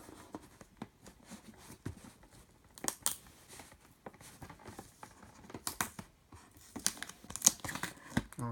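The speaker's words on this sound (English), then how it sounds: "I'm gonna take this tape off here." Packing tape peeled off a cardboard box in short, uneven rips and crinkles, moderately close, with quieter gaps between pulls.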